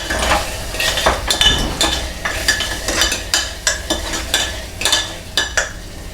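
A spoon scrapes and clinks repeatedly against a pan while ridge gourd curry with finely chopped green chili and ginger is stirred, sharp rhythmic knocks over a soft sizzle, close and clear with no voices.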